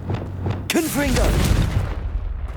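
A Confringo fire spell in the Hogwarts Legacy video game bursts out as a booming, crackling blast lasting a couple of seconds, with a voice shouting over its start.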